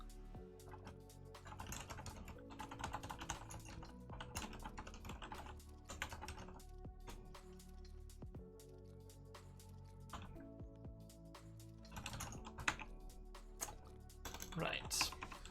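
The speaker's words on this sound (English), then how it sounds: "I'm typing import optional and tuple." Computer keyboard typing in bursts of quick, close clicks, with pauses between runs while code is entered; steady and moderately loud, with no voice over it.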